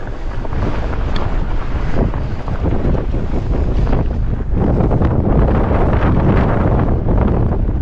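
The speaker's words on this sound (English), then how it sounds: "It's pretty cold and super windy" Strong, cold wind roars steadily and loudly across the microphone throughout a mountain climb on a Cyrusher XF800 e-bike, a dense continuous buffeting with no talk.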